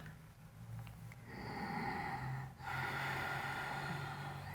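Slow, audible yoga breathing: a soft breath followed by a long, steady airy exhale and another drawn breath, close and unaccompanied by speech.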